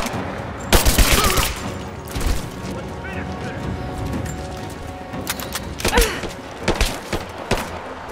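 Gunfire in the video game Rise of the Tomb Raider, with bursts of rapid shots in clusters separated by quieter stretches with thumps and mechanical clanks.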